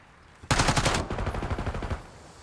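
A Jackal SMG from Black Ops 6 fires in a competitive match, one fast burst and then a quicker stuttering string of shots, all fairly quiet and in the distance.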